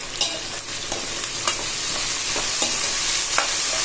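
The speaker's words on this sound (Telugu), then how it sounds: "ఇలా ఉల్లిపాయలు బాగా మగ్గాలండి." Salted onions sauté in a pan for Nellore fish curry, giving an even, loud sizzle with scattered light scrapes and taps from stirring, and no voices.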